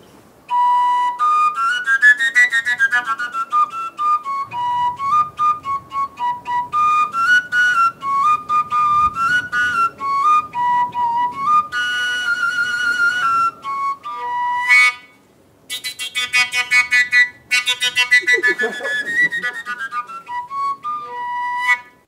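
A wooden whistle pipe plays a continuous folk melody of bright, piping notes with ornamented runs, close and loud, with only brief pauses and no talk.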